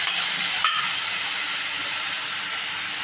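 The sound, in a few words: kadhi masala being sautéed in a pan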